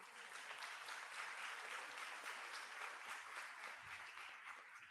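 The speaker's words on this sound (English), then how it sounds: "you give them a round of applause" Faint, distant applause from the audience at a congressional town hall meeting, a soft, even patter of many hands that continues for several seconds.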